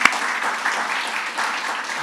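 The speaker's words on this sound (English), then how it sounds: "let's have a warm round of applause for all our remote participants today" Audience at a medical summit presentation giving a short burst of steady applause, dense clapping that holds evenly for a couple of seconds.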